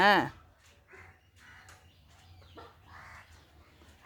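A chicken squawks loudly at the start, followed by scattered clucking and bird calls beneath people talking.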